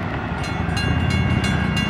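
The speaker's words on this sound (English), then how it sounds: "Longest train ever, but man, am I glad I caught it this time." A Florida East Coast intermodal freight train rolls past at Port Orange, Florida, a loud, steady close-up rumble with rhythmic wheel clatter and a brief horn note, no talk.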